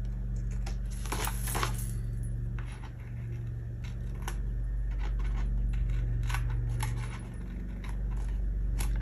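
Paper being sliced for a horizontal planner with a paper trimmer, giving repeated crisp cuts and scraping strokes over a steady low hum of a lawn mower outside.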